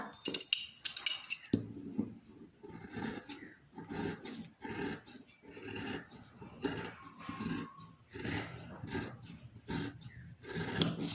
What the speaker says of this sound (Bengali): প্রথমে আমি এই যে হাতাটা কেটে নেব